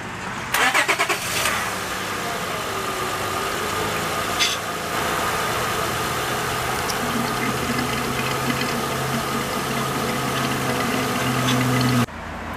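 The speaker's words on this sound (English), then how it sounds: "I'm gonna go ahead, turn on the van, and start to add a little bit of power steering to it." A 2005 Honda Odyssey minivan engine cranks and catches near the start, then settles into a steady idle that carries on loudly for several seconds before cutting off.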